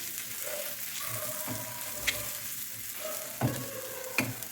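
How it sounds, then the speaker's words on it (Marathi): Ground masala paste frying over a low flame for a street-style tawa egg masala, a soft, steady sizzle with a few sharp utensil clicks and scrapes, close and without voices. "मी वाटण पण दोन मिनिट मस्त फ्राय करून घेतलेलं आहे"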